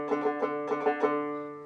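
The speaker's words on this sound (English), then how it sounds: "If we're using single string technique, it might sound like this." Banjo picking a quick single-string potato intro, a short run of crisp, evenly spaced plucked notes that ends with a final pick, played fairly quietly with no talking.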